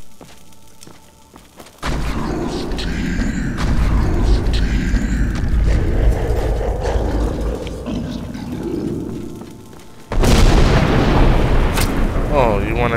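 An enemy's shout attack in the Skyrim video game: a sustained roaring blast of rumbling noise surging for about eight seconds, then a second sharp loud burst near the end, heavy and booming.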